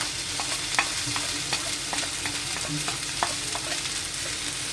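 Adauri mixture frying in a pan, a steady loud sizzle with repeated scraping and clinking of a spoon stirring at an even rhythm, close up.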